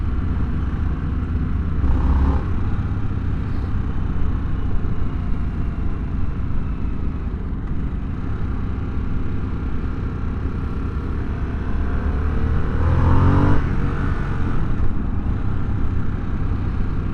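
A 2022 Harley-Davidson Sportster S motorcycle engine rumbles steadily at idle nearby, with two brief throttle blips that swell the low growl, no voices present.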